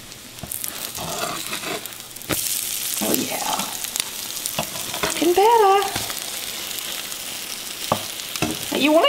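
French toast slices sizzle steadily in a frying pan at close range, with a few brief clatters and a short whistling tone partway through.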